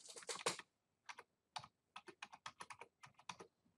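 A computer keyboard is typed on in quick, close clicking taps, first a fast cluster and then a run of separate keystrokes in uneven rhythm, with no talking.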